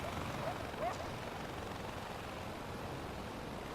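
A helicopter in the video game Far Cry 4 makes a steady, dense rotor and engine roar that fills the whole stretch at moderate loudness without pause.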